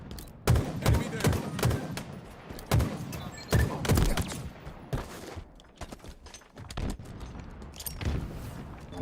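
Rapid bursts of video game gunfire from a Spartan-style shooter, loud and repeated in close volleys with heavy thumps throughout, while a player's voice calls out intermittently beneath the shots.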